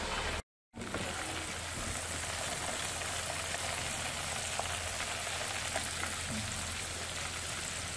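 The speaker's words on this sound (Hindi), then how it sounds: "अब हम इसको फ्राई करते जाएंगे साथ साथ इसकी साइड चेंज करके 2 मिनट बाद" Chicken wings frying in hot oil over medium heat, a steady, even sizzle that carries on without letup apart from one very brief dropout near the start; no talking.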